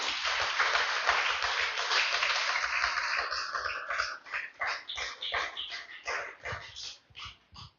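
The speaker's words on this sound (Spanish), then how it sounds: "Déselo fuerte el aplauso al Señor," A church congregation applauds, with dense, steady clapping that thins into separate, fading claps toward the end.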